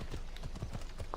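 Horse hooves clip-clopping in Assassin's Creed Odyssey, a quick run of close, evenly spaced thuds at a trotting rhythm, alone without talk.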